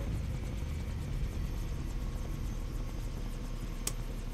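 A helicopter in the video game Far Cry 3 gives a steady, low rotor drone with engine hum, continuous and moderately loud throughout, with no talking.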